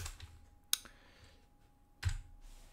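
A computer keyboard gives two separate, sharp keystroke clicks about a second apart in a quiet room, with a faint hum underneath.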